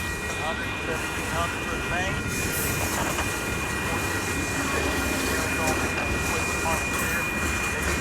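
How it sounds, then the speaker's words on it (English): A freight train rolls past at Fondren Rd and S Main St in Houston, giving a steady loud rumble with rail clatter throughout while someone talks over it. "And here comes the end of the train, ladies and gentlemen."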